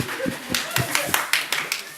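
A few scattered hand claps from a small audience at a comedy music show, sharp and fairly close, with talking and a little laughter mixed in.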